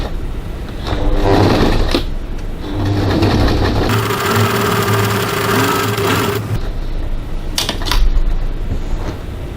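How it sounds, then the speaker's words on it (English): Sewing machine top stitching the edge of a crossbody bag with a 3.5 stitch length, a loud steady close whirring hum with rapid needle chatter, pausing briefly midway then running again. "Now I'm just going to top stitch this edge using a approximately 3mm 1/8 of an inch seam."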